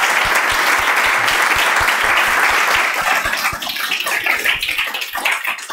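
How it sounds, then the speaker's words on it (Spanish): An audience gives a professor a loud round of applause at a lecture event, dense clapping with sharp individual claps that thins and tapers off toward the end. "Un fuerte aplauso, profesor."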